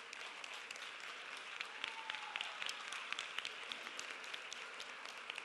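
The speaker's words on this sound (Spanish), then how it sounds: "Un fuerte aplauso también." Applause from an audience at a carnival federation gold insignia awards ceremony, a steady, fairly faint patter of many hands clapping that holds evenly for several seconds.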